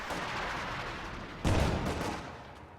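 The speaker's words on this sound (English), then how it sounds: "not with all those penals firing on him." Penal infantry rifles firing in a Company of Heroes 2 battle, a steady rattle of gunfire punctuated by a louder burst midway, dense and continuous.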